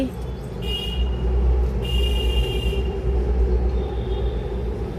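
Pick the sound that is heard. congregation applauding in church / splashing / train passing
train passing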